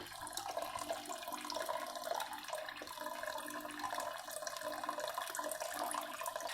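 Water pours and splashes continuously through a Bluepet BL 774W multi-section top filter on an aquarium, a steady close trickling rush with no talking.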